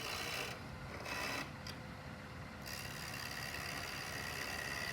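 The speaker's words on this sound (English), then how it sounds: "This is actually a detail gouge." A detail gouge cuts a turned wooden ornament on a lathe with a continuous raspy, hissing scrape. The scrape eases off briefly a couple of times as the tool lifts, then resumes steadily.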